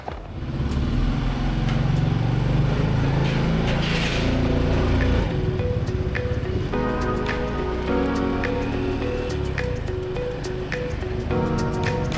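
Rain patters hard and steady during a motorbike ride on a winding Vietnamese coastal road, a dense constant wash with a low engine rumble and wind underneath.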